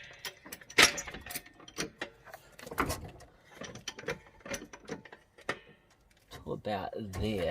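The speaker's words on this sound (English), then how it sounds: "I'm going to just jack it up a little bit on the lower control arms" A car jack works under the lower control arms during a Tein coilover suspension install on a Suzuki, giving a series of quick ratcheting clicks and clunks, with someone speaking briefly.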